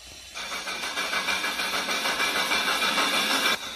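A Roblox train engine rolls in within a game, its steady mechanical engine noise rising sharply after a brief quieter start and holding loud and even before cutting off near the end, with no voices.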